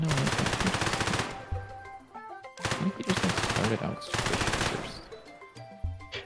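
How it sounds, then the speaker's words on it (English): Rapid SMG gunfire from an in-development video game, loud bursts of automatic shots fired in three or four separate strings with brief pauses and some background game sound between them. "Might keep this for the SMG and swap out the Meow 36 sound"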